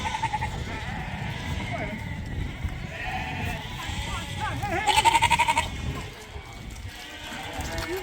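Lambs and ewes bleat repeatedly in a barn, several calls overlapping at moderate distance, with a louder, closer bleat near the middle amid shuffling and people talking.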